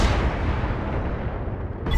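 Mech weapons and missiles firing in Battletech, a loud rumbling volley that sustains and slowly fades over two seconds before a fresh burst hits at the end.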